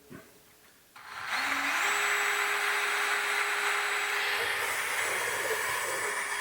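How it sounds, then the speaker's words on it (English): A power drill whirs up to a steady, loud high-pitched whine and keeps running, with a rising tone as it bores a hole for a self-tapping screw during a RoadMaster suspension install. "we're drilling a hole for a self-tapping screw"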